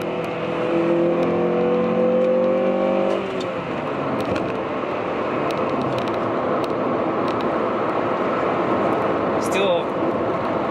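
A 20-year-old fifth-generation Honda Prelude with a VTEC engine pulls uphill, its engine note rising steadily before easing into a loud, constant drone of road and wind noise inside the cabin.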